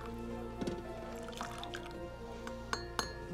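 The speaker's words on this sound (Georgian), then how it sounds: "დავამატებ წყალს" Water being added to tea in a kitchen in Guria, Georgia, faint trickling and dripping with a few sharp splashes and clinks, quiet and close against a low background hum.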